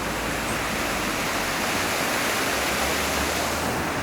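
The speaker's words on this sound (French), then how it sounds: "la rivière, la Weiss, traverse cette petite commune" The Weiss river flowing through the village of Lapoutroie in Alsace in December, a steady, loud, broadband rush of moving water that continues evenly from start to end with nothing else over it.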